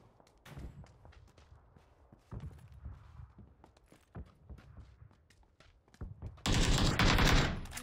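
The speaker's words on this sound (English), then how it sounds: "I'm just shooting now." Video game gunfire cracks out as a string of sharp, scattered shots with footstep-like thuds between them, ending in a loud, dense burst of rapid fire over the last second or so.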